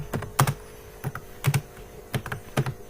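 Someone types code on a computer keyboard in short bursts, with close, crisp key clacks in small clusters separated by brief pauses, and nobody speaks.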